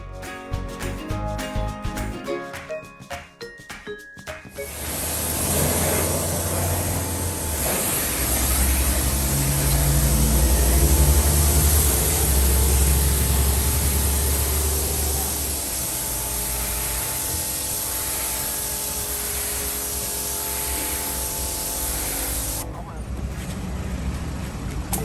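A Bossman BPCI-21 high pressure cleaner starts up and runs with a loud, steady hissing spray and motor drone, sustained for about eighteen seconds before cutting off, with brief clicks beforehand.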